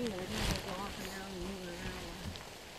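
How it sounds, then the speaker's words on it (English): Rain begins to patter down on a wooded stretch of the Finger Lakes Trail on a July walk, a soft steady hiss of drops under people talking nearby. "Oh, here comes the rain."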